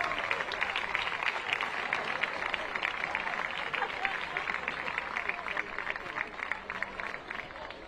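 A crowd applauds at a women's football tournament awards ceremony for the best goalkeeper, with steady, moderately distant clapping running throughout and voices mixed in.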